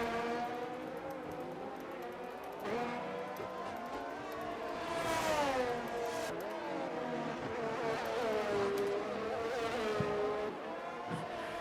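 Race car lapping the Zandvoort circuit in a racing video game, engine note rising and falling through corners and gear changes, steady and fairly loud throughout with some speech over it.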